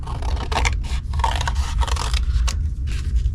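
Paper being cut for a Stampin' Up! crafting project, a loud close run of rough scraping snips and cuts lasting a few seconds, no voices.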